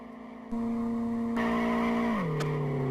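A modified Ford Focus in the Live for Speed racing game skids after a handbrake pull, the engine drone joined by a sustained tire squeal whose pitch drops near the end, loud and close.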